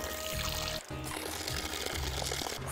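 Cold natural spring water flows out on its own at a historic heritage site, a steady splashing pour that runs continuously with a brief break, faint and close.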